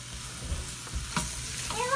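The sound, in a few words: butter melting and sizzling in a pot for mushroom soup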